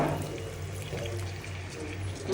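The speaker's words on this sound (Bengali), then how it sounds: "অল্প করে পানি দিয়ে দিব, যে মাছটা ভালোভাবে সিদ্ধ হয় বা কষানো হয়।" Water poured into a pan of large pangas fish cooking in a Bangladeshi home kitchen, a steady splashing, gurgling pour heard close and continuous for a couple of seconds.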